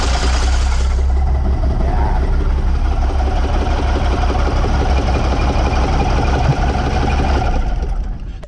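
An International DT466E diesel engine in a dump truck, running with its valve cover removed, holds a loud, steady idle with a dense mechanical clatter and low rumble throughout, no talking.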